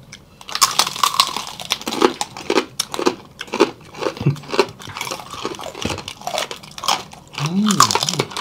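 Crispy pata, a deep-fried pork knuckle, being bitten and chewed up close, with repeated loud crackling crunches in uneven bursts and brief mumbled talk between bites.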